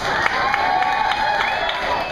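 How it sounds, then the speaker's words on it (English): Resort audience at a beach island dancing show applauding and cheering for a gentleman, a continuous wash of clapping with scattered whoops, fairly loud and steady throughout. "Folks, let's give this gentleman another round of applause"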